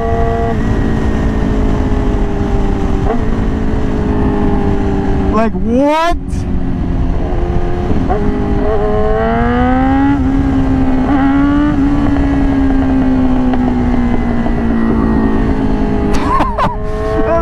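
A Yamaha R6 with a loud Akrapovic and SC Project titanium exhaust revs hard and close, pitch climbing and dropping through repeated throttle blips, with a brief voice breaking in near the end.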